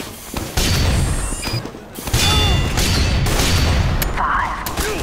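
An Engineer's mini sentry gun in Team Fortress 2 whirs and ratchets mechanically amid loud, rapid bursts of gunfire and booms, dense and busy throughout.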